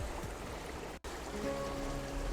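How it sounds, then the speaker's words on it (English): Water pours steadily down a hillside channel long after rainfall, a continuous rushing wash outdoors with a brief gap partway through, no voices. "the water from here just continues to pour down"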